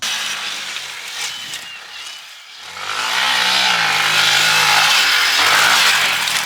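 A WR dirt bike engine revs hard and close for several seconds, a steady buzzing roar after a brief lull, with the throttle held part-open rather than blipped to full.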